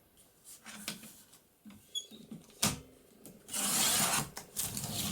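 A half A4 sheet of paper is trimmed for a papercraft booklet: scattered soft scrapes and taps, then a sustained, louder rasping cut near the end, close by and without talk.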